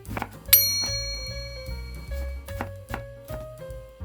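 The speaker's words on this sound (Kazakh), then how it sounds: "Ең алдымен қызыл немесе ақ пиязды майда 4 бұрыш етіп турап аламыз" Knife chopping red or white onion into small squares on a board, a series of distinct sharp thuds at an uneven rhythm, close and clear with ringing after one louder strike.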